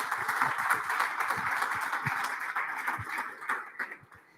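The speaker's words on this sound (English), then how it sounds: "So give her a round of applause as she comes to give her pitch." A crowd at an evening startup pitch event gives a round of applause as the next presenter walks up, a thick, even patter of many hands that tapers off toward the end.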